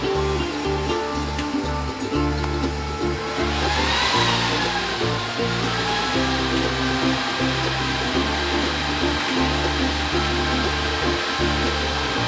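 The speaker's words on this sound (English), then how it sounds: "This thing gets a lot louder than the other server." Cooling fans in a Dell PowerEdge R730 server spin up loudly at startup, a steady close roar with layered tonal whine that rises and swells briefly partway through, continuous with no speech.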